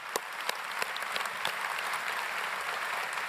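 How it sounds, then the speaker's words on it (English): Audience applause at a graduation ceremony, a steady wash of clapping from a crowd with a few sharper individual claps near the start, sustained and even throughout. "So a big round of applause to Ian, please."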